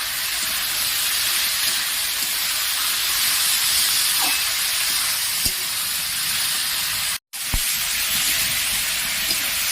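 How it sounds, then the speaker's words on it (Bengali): Boiled banana flower (mocha) sizzles and hisses steadily in a hot pan as it is stir-fried, with a few faint clicks of a utensil and one brief cut in the sound. "এবার আমি সিদ্ধ করে রাখা মোচাটা দিয়ে দেবো। বেশ ভালোভাবে কষিয়ে দেবো।"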